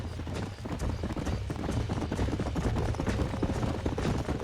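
Horse hooves clip-clop in a quick, steady rhythm in the video game Red Dead Redemption, close and loud, with a dense continuous patter and no talking.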